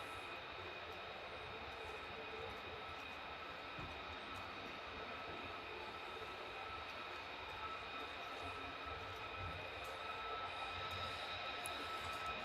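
A military jet at RAF Lakenheath rumbles as a distant, continuous roar, faint and steady over a broad hissing background, with no voices.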